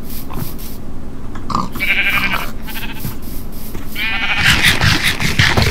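Sheep in the video game Minecraft bleat repeatedly, several close wavering calls over a busy game background with no talk.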